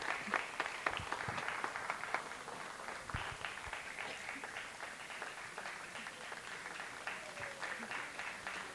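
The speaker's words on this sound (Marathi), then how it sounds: "जोरदार टाळ्या" Applause for a best dancer award at a school annual function, a faint, scattered hall of clapping that continues steadily, with sharper individual claps standing out early on.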